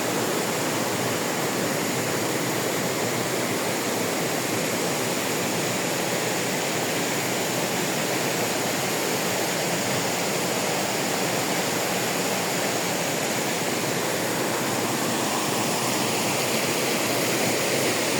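Cold, clear river water at Tubig Dako spring in Antequera, Bohol, rushing in a steady, loud, unbroken wash that fills the whole stretch, with no voices over it.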